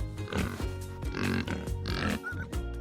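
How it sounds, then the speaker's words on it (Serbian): Pig grunts and oinks in a quick, repeated series, close and fairly loud, with snuffling between calls. "Svinja."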